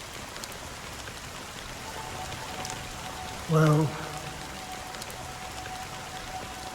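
Steady rain falls in the video game Honkai Star Rail, a constant even hiss of drops filling the scene, with a short spoken word cutting in briefly over it midway.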